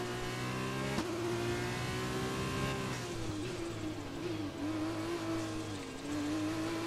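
F1 car from F1 2020 on the throttle out of a corner, its high engine whine climbing steadily with a brief dip and recovery midway, loud and continuous with no talk over it.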